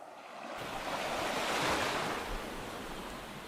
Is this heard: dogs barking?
no